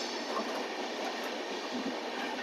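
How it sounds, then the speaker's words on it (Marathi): Golden Temple Mail pulling out of Bharatpur Junction, a steady, close rumble of rolling rail cars and wheels on track filling the whole stretch, with no pauses and no talking. "भरतपूर जंक्शन वरून ट्रेनने डिपार्चर घेतलेलं आहे."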